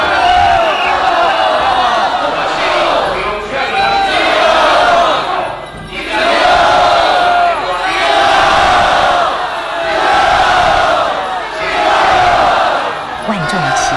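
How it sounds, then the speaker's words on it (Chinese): A huge crowd of pilgrims in the Baishatun Mazu procession roars and chants in repeated rising surges at Beigang Chaotian Temple, loud and massed, with cheering swelling and dipping in waves. "万众齐心高声呐喊，进啊进啊进啊"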